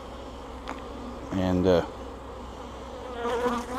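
Agitated honeybees drone steadily and close around an open hive during an inspection, with a louder burst of buzzing partway through, and someone talks briefly over the buzzing.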